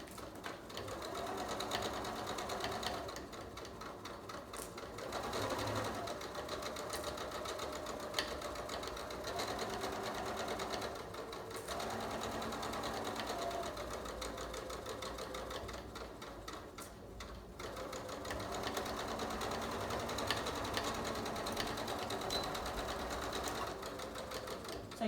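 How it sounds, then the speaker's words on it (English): A sewing machine runs in steady bursts of stitching along pajama pant seams, each run pausing briefly before starting again, close and moderately loud with no talking. "I'm going to hold down my seams because I wanted to sew those nice and flat."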